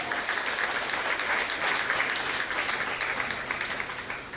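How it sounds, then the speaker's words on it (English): Steady, dense clapping from the audience at a nursing school lamp lighting and oath ceremony, sustained throughout at a fairly even level with no voices rising above it. "I request the audience, please give them a big round of applause."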